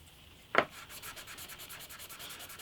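Fine 1000-grit sandpaper rubs across the bridge of an antique parlour guitar, a soft close rhythmic swishing in quick even strokes, following a single sharp tap at the start, with no talking.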